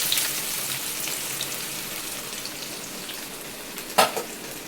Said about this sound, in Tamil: இப்போ வெங்காயத்தை போட்டுடலாம்.